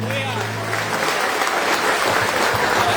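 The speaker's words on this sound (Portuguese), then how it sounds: "Vamos dar um aplauso a Jesus" Applause from a church congregation, steady clapping throughout at moderate loudness, with a low hum under it.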